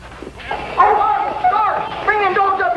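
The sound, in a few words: dogs barking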